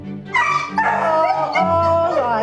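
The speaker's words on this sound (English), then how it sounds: "In the clinic today, a badly injured dog" A badly injured dog at a veterinary clinic gives a series of loud, close barks, yelps and whining howls, with strong tonal wails rising and falling continuously for a couple of seconds.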